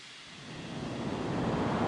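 A jet aircraft landing in the video game Unmatched Air Traffic Control, a broad rushing engine roar that swells steadily louder over two seconds, with no voices.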